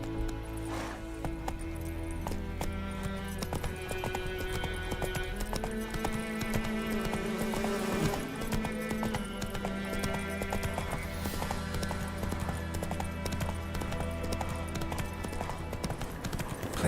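Geralt's horse Roach galloping in The Witcher 3, a fast, steady clip-clop of hooves that runs throughout over a bed of game music.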